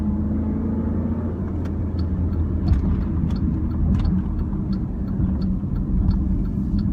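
Jeep Grand Cherokee SRT8 with a Hemi V8 heard from inside while driving, a steady low engine rumble and road drone that holds constant throughout with no talking.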